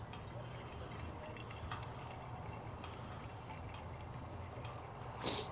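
Water poured into the coolant system of a Land Rover Freelander 2, a faint continuous trickling and gurgling with a brief louder splash near the end.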